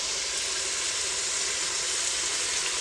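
Vegetables frying in a pan for a village-style pulao give an even, steady hiss and sizzle, close and unbroken, with no voices.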